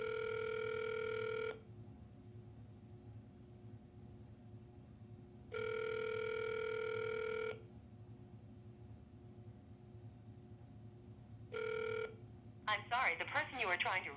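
A phone call placed to a tree-trimming subcontractor's number: repeated ringback tones sound in evenly spaced bursts over a steady line hiss, and a voice starts speaking near the end.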